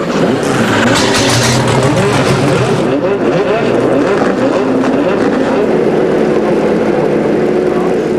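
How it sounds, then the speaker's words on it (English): Race car engines at the 2006 American Le Mans Series Grand Prix of Mosport fire up and rev together, a loud, dense, continuous roar that steadies after a few seconds. "Drivers, start your engines."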